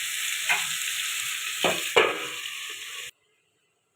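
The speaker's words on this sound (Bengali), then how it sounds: "এটা ভালো করে কষাতে থাকবে।" Drumsticks and potatoes sauté in a hot pan with a steady, close sizzle, while a few scraping stirs punctuate it and the frying cuts off abruptly near the end.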